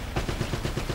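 Enemy turret machine gun in Uncharted: Drake's Fortune firing a rapid, evenly spaced burst of about eight shots, moderately loud and continuous with no voices.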